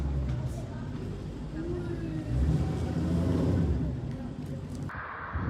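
A Porsche Carrera 4S rolls past nearby with a low engine rumble that swells briefly and then fades, while people talk over it.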